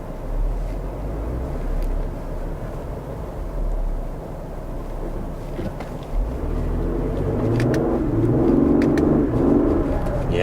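A 400 hp Ford Explorer ST three-row SUV accelerates with quick downshifts. A deep engine rumble from inside the cabin builds into louder revving toward the end.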